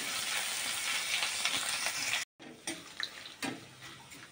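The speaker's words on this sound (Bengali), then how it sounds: "রসুনগুলো দিয়ে দিলাম, দিয়ে একটু লাল লাল করে ভাজবো।" Crushed garlic dropped into hot oil sizzles steadily, with a brief silent gap partway through and then quieter sputtering and light clinks in the pan.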